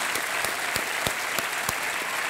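A studio audience on the KBC game show breaks into loud, sustained applause, a dense wash of clapping that fills the room with no speech over it.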